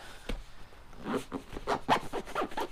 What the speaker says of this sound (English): And I can just close it like this, and then zipper this shut.